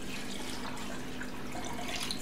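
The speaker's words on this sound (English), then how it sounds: "and then I'm going to put the water in." Water poured into a cooking pot of pork neck bones and cut onions, a steady faint splashing wash of liquid running continuously, close by and alone without talk.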